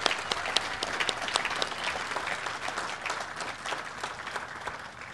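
A crowd applauds steadily at a ribbon-cutting ceremony, many hands clapping in a dense, even patter that holds for several seconds at moderate volume.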